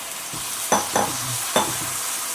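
Coconut and jaggery filling stirred in a pan over a low flame, with three distinct scraping strokes over a steady, soft sizzle.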